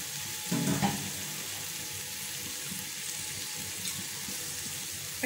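Eggs dropped into a hot pan for a Kerala-style egg roast give a brief louder crackle, then settle into a steady, close sizzle and hiss of frying, with no talking.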